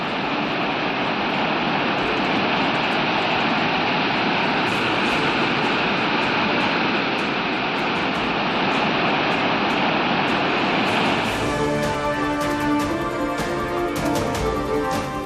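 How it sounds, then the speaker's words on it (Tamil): Heavy, steady roar of the flooding Old Courtallam waterfall in Tenkasi, swollen after rain, a dense continuous rush of falling water that stays loud throughout and shifts in texture near the end. "பழைய குற்றால அருவியில் வெள்ளப்பெருக்கு"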